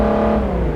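A Lexus GS 350 F Sport V6 in City Car Driving at full throttle, its engine roaring loud and close with a steady, rising tone over the short burst.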